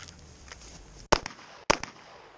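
Gunshots fired during an active shooter drill on a training line: two sharp, loud cracks about half a second apart, each with a short echo tail, with no talk over them.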